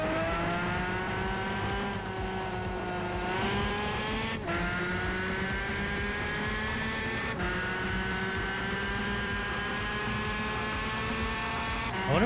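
Racing engines in Gran Turismo 5 roar continuously with rising and falling revs. Sharp gear-shift breaks and tire squeals cut through, all loud and steady throughout.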